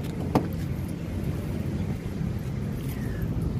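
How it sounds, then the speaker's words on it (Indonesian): A 2011 Ford Fiesta 1.6 Sport automatic is unlocked with its factory flip remote key and opened: one sharp click near the start, then a steady rush of outdoor wind and traffic noise. "Nih, sekarang kita coba buka mobil."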